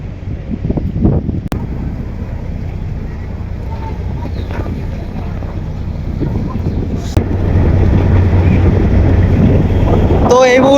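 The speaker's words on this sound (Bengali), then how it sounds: "কালাই খাল থেকে বের হয়ে যাচ্ছে এমভি বন্ধন 5" The passenger launch MV Bandhon 5 moves along a river out of Kalaiya canal in fog, a steady low engine drone under heavy wind rumble and water noise, with a brief voice near the end.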